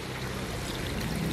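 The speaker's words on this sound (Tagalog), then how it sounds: "Nilagyan ko lang ng tubig." Water is poured into a pot of salted beans chicken with carrot and black beans, a steady close rushing pour lasting a moment.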